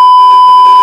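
A phone's incoming-call alert rings out as a loud, steady electronic tone sounding alone for under a second, with a faint pulsing layer underneath.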